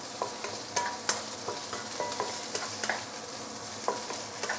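Roast pork fries with garlic as its fat renders, giving a constant sizzle broken by regular scraping knocks from stirring with a utensil in the pan.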